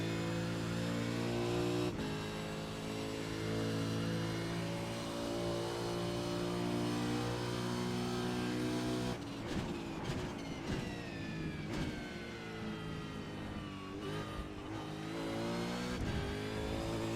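A high-performance supercar engine revs hard and steadily in the iRacing simulator, with a loud sustained drone, sharp shifts and rising pitch sweeps through corners, and no talk over it.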